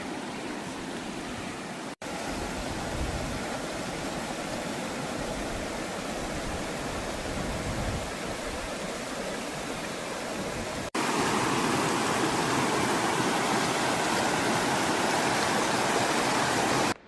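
Glacier meltwater stream pouring down a mountainside on a hiking trail in Pakistan, a steady broadband rushing and splashing that runs continuously, growing louder and closer in the final seconds, with no talk.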